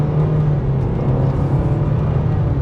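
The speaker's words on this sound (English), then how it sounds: "So setting off now in the Nissan Sentra." A 2025 Nissan Sentra with a CVT pulls away, its engine giving a steady, close, low drone with a faint whir above it. No one speaks, and the note holds level throughout.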